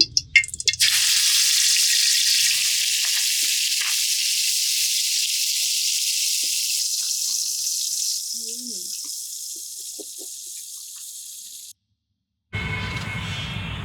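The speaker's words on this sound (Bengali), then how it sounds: "তো তেলটা গরম হয়ে গেছে আমি এখন মাছটা দিয়ে দিচ্ছি" A fish head fries in hot oil in a village kitchen, a loud steady sizzle that starts after a few clinks and fades slowly. It breaks off briefly before voices and clatter return.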